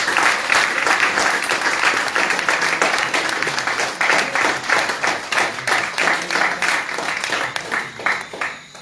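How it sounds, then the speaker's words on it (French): An audience at a New Year awards and honours ceremony claps warmly, the applause dense at first and then breaking into more distinct, rhythmic clapping toward the end, with faint voices underneath. "je vous demande quand même de l'applaudir ici"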